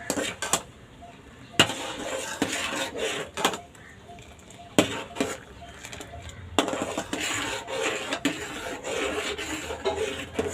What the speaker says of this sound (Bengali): এবার হাতাটা দিয়ে কন্টিনিউ নেড়ে যেতে হবে, যাতে এর উপরে সর না পড়ে